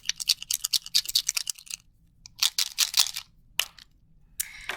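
Paint pens shaken hard to mix the paint, each with a small bead rattling inside: rapid, close clicking rattles in two bursts, then a few isolated clicks.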